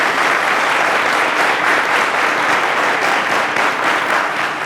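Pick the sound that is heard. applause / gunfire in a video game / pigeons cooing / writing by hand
applause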